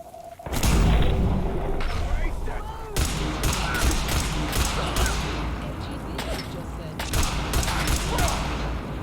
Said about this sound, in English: I am causing a small nuclear-based explosion in the kitchen area